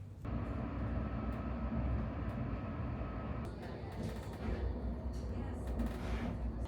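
Nottingham NET tram heading toward the Toton Lane terminus, a continuous low rumbling ride heard from inside, with some rattling and knocks in the latter half.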